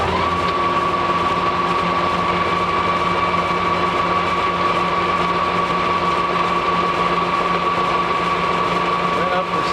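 A golf cart axle being machined on a lathe gives a steady, loud mechanical whine with a constant high tone and broadband cutting noise, running continuously and evenly throughout.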